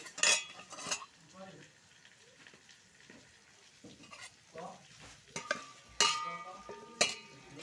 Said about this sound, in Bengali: আলুটা যে ভাজছি